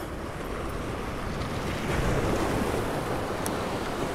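Rough ocean surf pounds against the rocks of a jetty, a loud continuous wash of breaking waves with steady wind noise buffeting the microphone throughout.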